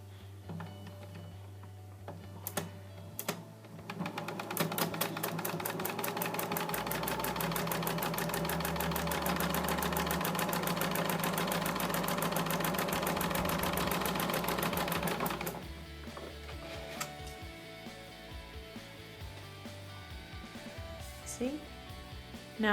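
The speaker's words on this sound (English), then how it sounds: "Now I'm going to stitch 1/4 inch to the left hand side of my line." A sewing machine stitches quilt half-square triangles in one steady run of rapid needle clatter lasting about ten seconds, with faint talk before and after.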